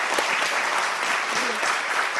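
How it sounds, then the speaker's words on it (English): An audience at a session on embracing AI applauds a presenting group, producing a continuous, fairly loud wash of clapping that holds steady throughout with a faint voice briefly audible. "I want to give this group a round of applause"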